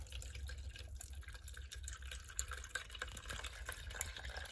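Water drains from a GE washing machine that won't drain into a cup, a steady low trickle and dribble with faint drips, fairly quiet and continuous with no talking.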